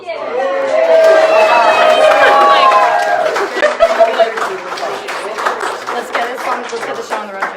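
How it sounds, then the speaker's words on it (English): Wedding guests in Taos applaud: after a voice carrying over the room, scattered claps build into a loose round of applause mixed with crowd chatter and some laughter. "Let's give a round of applause."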